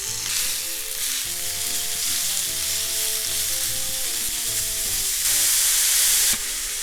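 Ground meat fries with roasted scallion in a hot pan, giving a loud, continuous sizzle with occasional stirring scrapes and a brief surge of hiss near the end.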